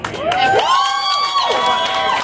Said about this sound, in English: I mean, a big applause.